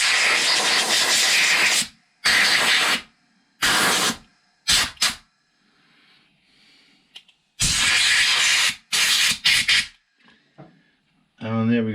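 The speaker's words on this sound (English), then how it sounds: "air compressor. So now I'm going to just give it a quick blow off, just to get rid of all the residual" Compressed air from an air compressor blows off a small engine carburetor from a Stiga mower in several loud, close hissing bursts of varying length, separated by quiet gaps.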